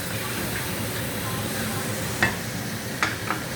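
Potatoes fry in oil in a home kitchen pan, a steady low sizzle running throughout with a few brief clinks of a utensil stirring near the end, no talking over it.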